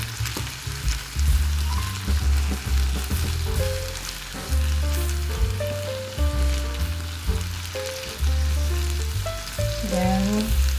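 Banana ketchup being stirred into a sizzling pan, with loud continuous frying and a spatula scraping and mixing. A rhythmic musical backing plays throughout, and no one speaks.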